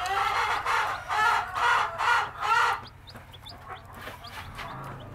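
A new mother hen clucks in four rhythmic bursts close by, followed by faint high peeping from her baby chicks.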